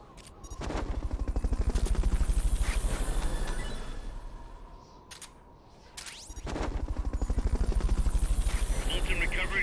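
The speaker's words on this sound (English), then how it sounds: "Fulton recovery helicopter is complete." A Fulton recovery helicopter in the video game Metal Gear Solid: Peace Walker: a steady, loud rotor chop that dips briefly midway and then resumes, with sharp gunfire-like cracks layered over it.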